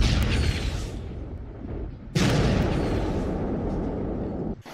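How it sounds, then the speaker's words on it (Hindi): Two heavy, rumbling booms from distant air strike explosions over Hezbollah positions in Lebanon, each a sudden blast followed by a long rolling roar that slowly fades. "विस्फोट हो रहा है"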